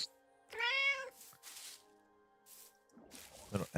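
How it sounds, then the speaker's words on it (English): Cat in Minecraft gives a clear, drawn-out meow up close, then quieter squishy, dripping game sounds follow before a voice briefly comes in at the end. "These cats."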